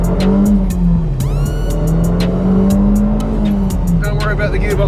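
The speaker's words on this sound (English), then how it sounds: "Is it me or is the gearbox sound a little bit whiny?" A JDM car's gearbox whines in a rising, wavering tone as it accelerates hard under boost, loud and close from inside the cabin, with people talking over it.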